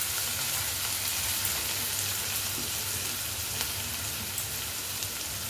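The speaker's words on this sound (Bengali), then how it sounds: "এবার একটু আমরা আরেকটু ভেজে নেব" Onion and garlic frying in a pan, with a salt-softened onion base: a steady, dense sizzle runs unbroken and close throughout, with a few faint stirring ticks and no voices.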